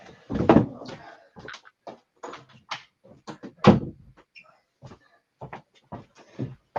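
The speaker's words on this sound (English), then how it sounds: "I'm just going to close this door" Several knocks and thuds of a door being handled and shut indoors come as distinct bursts, the loudest near the start and midway, separated by quieter bumps and silences.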